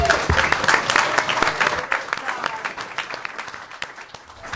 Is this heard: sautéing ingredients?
no